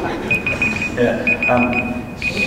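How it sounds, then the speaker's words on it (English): An alarm beeps in repeated short bursts to signal that boiled eggs are ready, fairly loud and steady, with a person talking over it. "That's the alarm going off, which means the eggs are ready."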